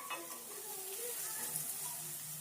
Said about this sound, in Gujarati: લીલા લસણ અને લીલું મરચું ઝીણું ઝીણું સુધાર રાખ્યું છે એને નાખી દઈએ આપણે